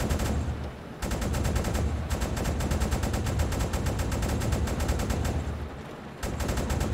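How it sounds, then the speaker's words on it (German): Prolonged gunfire and shelling in the UBOAT submarine game: rapid, rhythmic bursts of shots hammer on almost without letup, with brief pauses near the start and end. The firing is loud and dense, and no one speaks. "Das könnte jetzt ein längerer Beschuss werden"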